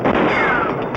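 A single sharp gunshot rings out in a western film about Billy the Kid and Pat Garrett, a loud close blast followed by a brief echoing tail.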